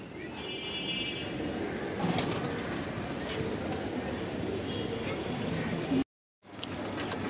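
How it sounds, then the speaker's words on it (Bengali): Iranian pigeons coo in a loft amid a dense, busy background of rustling and chatter, the soft calls blending into steady noise before a brief dropout near the end. "এই আরেক পেয়ার কবুতর, খুবই ফাটাফাটি কবুতর, ইরানি কবুতর"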